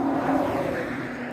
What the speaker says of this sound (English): sorry, the cars are loud.